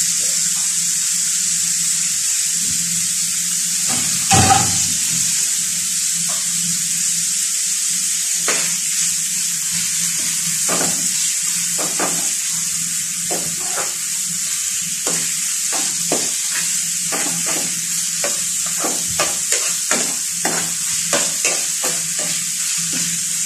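Tomatoes sauté in a hot pan for a sardine dish, giving a steady loud sizzle with a spatula scraping and stirring in irregular strokes throughout.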